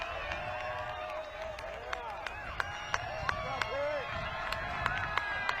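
Big crowd at a disc golf final cheering and clapping in a steady, sustained roar, with sharper individual claps and whistles popping out above the din; a commentator talks over it.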